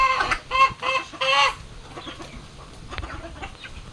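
Newly hatched chicks and other poultry in a flock cluck in a few loud bursts early on, then fainter scattered calls and faint chirps follow, with no talk.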